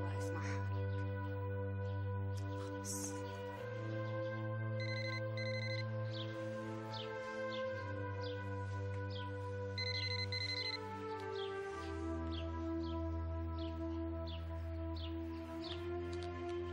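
A telephone rings in a scene from an Arabic TV drama series, sounding as repeated short trilling bursts over a steady, sustained musical backdrop.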